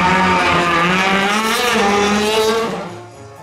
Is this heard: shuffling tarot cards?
no